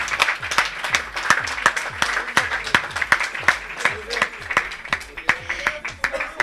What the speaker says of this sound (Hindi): जोरदार तालियां होनी चाहिए, please.